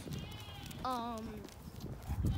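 A single goat bleat, wavering and drawn out for about half a second, rises over low farmyard background noise in a barn area on a farm.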